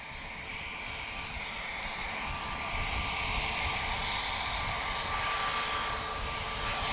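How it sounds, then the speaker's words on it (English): A Lufthansa Airbus A321ceo arriving at Lisbon Airport, heard as a steady, broad jet roar that builds slightly and holds at a moderate distance, with no voices over it. "So we do have an arrival, guys, and this is going to be Lufthansa A321, one of the classic ones, so not a Neo basically."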